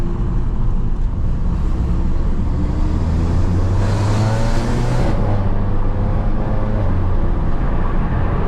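A 400 BHP Volkswagen Golf R, stage 2 tuned, drives along with a steady low engine drone and road and wind noise throughout, rising briefly in a louder surge midway, heard from inside the car with no talking.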